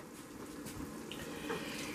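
Half a cup of cooking wine is poured into a pot for ravioli fagioli, a steady close liquid trickle with a faint wet splash, heard alone without talk for about two seconds.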